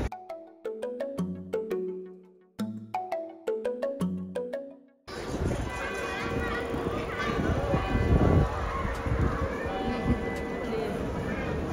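Church bell in a German town rings in a slow series of clear metallic strikes, then gives way to busy outdoor street noise with a rumbling, rolling sound.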